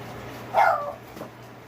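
A dog gives a single short, high whimper nearby, followed by a faint, softer second sound.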